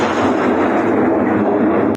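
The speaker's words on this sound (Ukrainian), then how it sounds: "Десятки таких вибухів пролунали цієї ночі над поки ще окупованим Кримом." A continuous loud roar of distant explosions and heavy booming over Crimea at night, rumbling without a break for the whole stretch.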